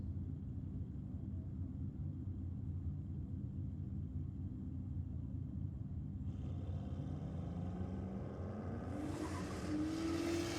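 A Toyota Supra launches off the line at a JDM and Euro drag racing night: a faint, distant low rumble, then a rising engine note climbs sharply at the end.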